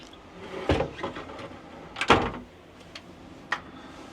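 A sliding wardrobe door in a cruise ship cabin rumbles open or shut in two short scraping pushes, followed by a couple of light knocks, close by and with no talk.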